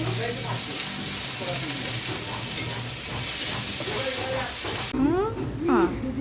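Dheki shak, fiddlehead fern greens, fry in a pan with a close, steady hissing sizzle, while a voice speaks over it and faint tonal household sounds intrude near the end.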